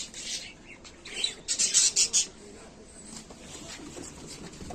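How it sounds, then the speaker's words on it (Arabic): Small birds chirp and squawk in a quick busy cluster, fairly close, then fade into a quieter background with occasional faint calls. "نشوف الطيور"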